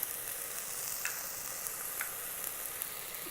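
Shrimp with fennel seed powder and other dry spices sizzle and fry in an Instant Pot, a steady close crackle with small pops scattered throughout.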